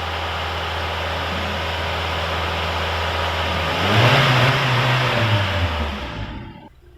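A car engine idles steadily while diagnostic parameters are read, then briefly revs up with a rising and falling engine note before easing back down and cutting off near the end; no talking.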